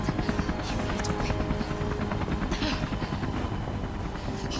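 A helicopter in the video game Beyond: Two Souls makes a steady, loud rotor chop with a dense whirring drone that holds through the whole stretch, with no break in the sound.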